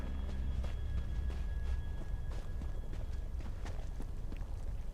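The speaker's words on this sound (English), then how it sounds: "Oh, horses!" Horse hooves clip-clop in a quick, uneven rhythm in the video game ESO, close and clear over a low rumbling ambient bed, with no talking.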